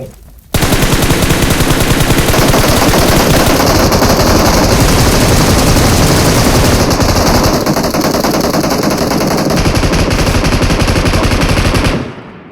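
Loud, continuous automatic gunfire in PUBG Mobile rattles in a rapid unbroken stream for about eleven seconds, then cuts off abruptly.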